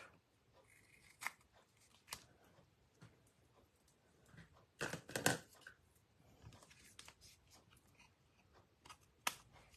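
Scissors trimming paper for a twisted ribbon card, sparse close snips and crisp cuts scattered over quiet gaps, with a denser burst of paper handling midway, no talking.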